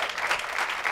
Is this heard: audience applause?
yes